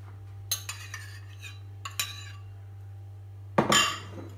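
Cheese lasagna sauce spooned over the top of a lasagna, with a few sharp clinks of a metal utensil against a dish, scattered irregularly over a low steady hum, no talking.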